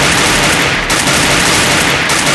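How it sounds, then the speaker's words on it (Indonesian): Dense, loud rapid gunfire from the mobile game Free Fire, continuous automatic bursts filling the whole stretch with no talk. "Ada suara tembakan di belakang."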